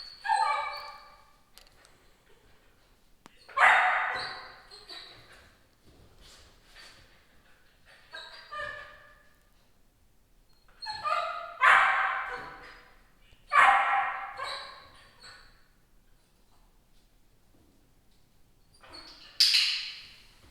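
A puppy being taught the down command barks and yips in several separate bursts, with softer whimpers and quieter stretches between them, close and fairly loud.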